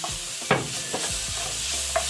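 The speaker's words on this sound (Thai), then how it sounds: "ผัดให้หอม" A Thai chili paste is stir-fried in a hot pan with a steady close sizzle and occasional scraping strokes of a spatula, and no voices are heard.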